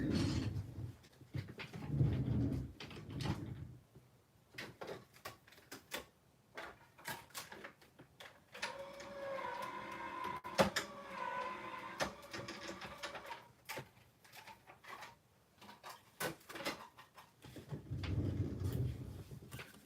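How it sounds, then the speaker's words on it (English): A small crafting die-cut or embossing machine cranks pieces through with repeated mechanical clicks and rattles, a whirring grind in the middle, and soft handling rustles at the start and end, fairly faint throughout. "I'm gonna run these through my machine real quick."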